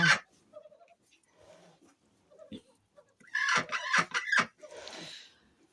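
Domestic ducks with reddish-ginger plumage, one with a white breast, quack in a short burst of loud calls, with a few quieter sounds and a louder call at the start.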